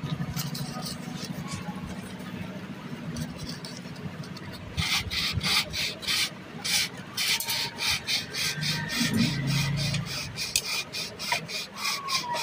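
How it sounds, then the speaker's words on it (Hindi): Sandpaper rubbed over the commutator of a Baleno motor armature during rewinding, heard as a low steady scraping at first, then louder rhythmic back-and-forth rasping strokes, close by, with faint background noise. "इसका कम्यूटेटर रेगमाल के ज़रिए साफ़ करेंगे"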